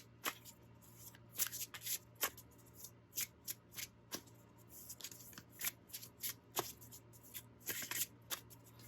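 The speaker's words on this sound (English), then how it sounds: "I'm gonna try to give an example of the shuffling" Matte-cardstock tarot cards being shuffled by hand in a quiet room, a run of crisp riffling bursts and soft taps at an uneven pace, close and fairly faint.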